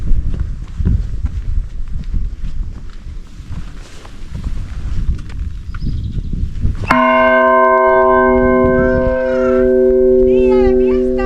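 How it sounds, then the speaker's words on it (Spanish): Church bells ring out in the village of Sortela, Portugal, a sudden loud peal with sustained ringing tones entering midway after a stretch of outdoor ambient noise, continuing steadily to the end. "¡Que vuelvan a sonar las campanas en Sortela una vez más!"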